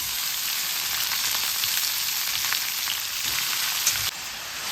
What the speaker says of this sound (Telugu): అల్లం వెల్లుల్లి పేస్ట్ కూడా వేగిన తర్వాత మనం ఇలాగ కట్ చేసుకున్న వంకాయలు వేసుకోవాలి